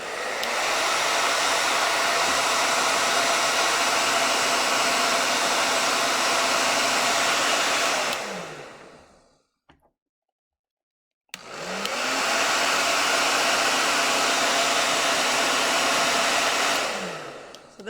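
A hair dryer aimed down at paper and crayons blows steadily at close range for about eight seconds, cuts off into brief silence, then starts up again and runs loud and constant.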